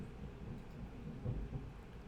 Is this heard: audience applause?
no